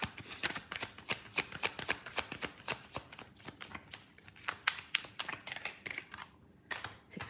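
Tarot cards are handled and laid out during a reading, producing a steady run of crisp snapping and shuffling flicks, close and fairly soft, with no voices.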